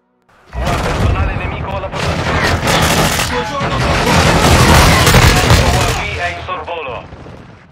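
Dense, continuous gunfire and explosions from a Call of Duty Warzone 2 match on the Shipment map, loud and sustained for several seconds with overlapping bursts and booms.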